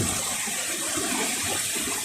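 Continuous rushing water, a steady broadband wash like a river flowing nearby in snowy Czech Republic, moderately loud and unbroken.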